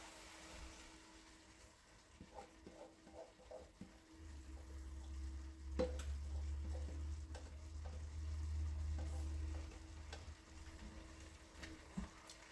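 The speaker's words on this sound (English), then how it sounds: "Adding back in our cooked meat with the juice." Cooked roast meat and its juices go into a soup pot: quiet scattered clinks and scrapes of a utensil against metal, soft wet sounds, and a low steady rumble underneath.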